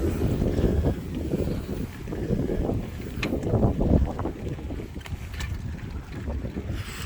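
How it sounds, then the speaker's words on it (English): Gusty wind buffets the microphone during an outdoor bike ride, a continuous low rumbling roar that swells and dips throughout, with faint traffic-like hiss in the background. "Oh, it's windy."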